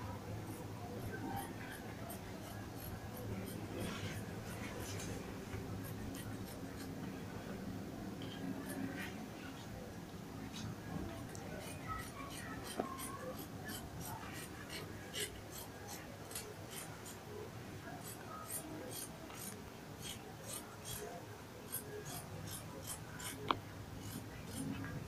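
Scissors snipping through fabric for a tie-neck cowl kaftan evening dress, a soft, close series of crisp cuts repeating steadily over a quiet room background with occasional brief talk.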